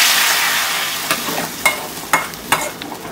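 Tempering poured into a boiling fish curry, meen kulambu, gives a loud sizzling hiss that slowly fades, with a few sharp clinks and stirring knocks from utensils as it settles.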